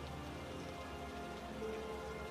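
Heavy rain at night falls steadily on surfaces, a soft, even patter heard at a distance and fairly faint throughout, with no voices.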